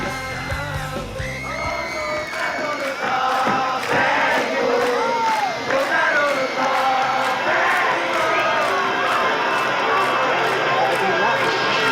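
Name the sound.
crowd singing a song without music at a concert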